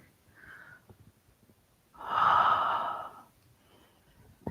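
A long, breathy qigong exhale with an open ha sound swells for about a second in the middle, preceded by a short soft breath and quiet room hiss.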